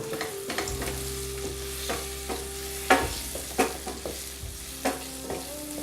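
Plantain bananas frying in a pan with garam masala spices for a moringa colombo, a continuous low sizzle with a steady hum underneath and regular sharp scraping strokes as the pieces are stirred, close by.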